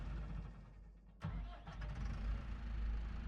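A tractor engine starting in Farming Simulator 25: a sudden loud crank at just over one second, then a steady low engine rumble running near and continuous to the end.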